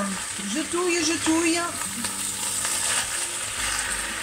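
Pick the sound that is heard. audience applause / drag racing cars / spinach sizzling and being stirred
spinach sizzling and being stirred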